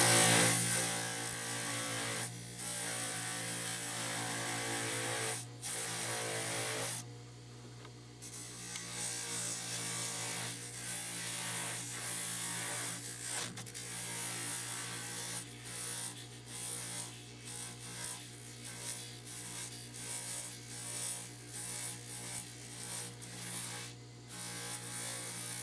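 A denture is polished on a motor-driven polishing setup, giving a steady buzzing hum that swells and dips as the piece is moved around against the wheel, with no talking.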